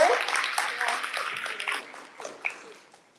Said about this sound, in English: So I'd like us all to give Amy one more round of applause for being our amazing keynote speaker.